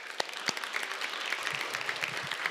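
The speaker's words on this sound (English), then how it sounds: "Give them a round of applause." Applause from an elementary school audience for spelling bee champions, a light patter of clapping with a few sharp individual claps standing out, steady and moderately close, without talk.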